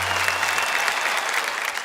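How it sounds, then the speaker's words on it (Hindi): Applause from the audience and judges at a Hindi comedy poetry show: a brief, even wash of clapping that is loud and continuous for under two seconds. "इनके लिए जरा तालियां बजाइए।"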